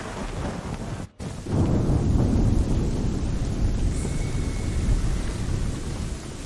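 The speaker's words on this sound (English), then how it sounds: "I'd say it's high time we find some cover from this storm, Captain." Thunderstorm during an Assassin's Creed 3 cutscene: a loud crack of thunder gives way to a steady, heavy roar of rain and rumbling wind, close and continuous, with no speech.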